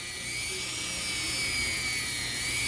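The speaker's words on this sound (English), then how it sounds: "going to buff and polish each fret, going down one side and down the other" Guitar frets being buffed and polished one by one, a steady high-pitched whirring hiss like a small rotary tool running continuously and close, with no talking.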